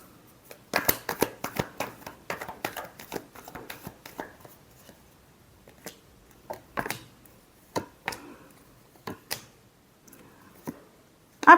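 Tarot cards shuffled by hand in a quiet room, a dense run of quick riffling snaps early on that thins into scattered, separate card slaps and flicks, close and fairly crisp with no voice over them.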